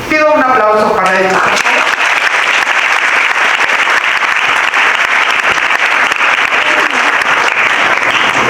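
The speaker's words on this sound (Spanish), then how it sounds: "Pido un aplauso para ellos." Audience at a lecture session bursts into loud, sustained applause after a brief opening of other sound, many hands clapping densely and evenly close by for several seconds.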